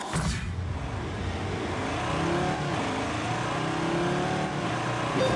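A pickup truck with a 3.2-litre five-cylinder engine races off-road in Wales. The engine drones continuously and strains under load, mixed with wind and rumble.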